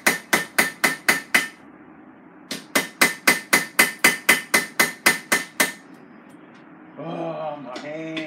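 Hot iron being hammered into a latch hook at a forge, heard as two close bursts of sharp, evenly spaced ringing blows separated by a short pause, followed by brief nearby talk.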